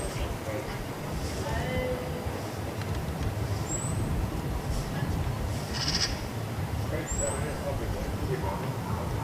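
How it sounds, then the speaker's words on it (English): A robin gives thin, high-pitched "see" warning calls, a few brief piercing notes spaced apart, heard faintly over steady outdoor background noise while a voice talks. "We can also hear the high-pitched warning call of the robin."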